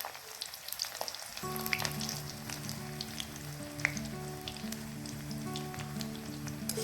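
Gram flour dumplings fry in hot oil for chapdi undhiyu. A steady, close sizzle starts after about a second and bubbles on without a break, with faint sustained tones underneath.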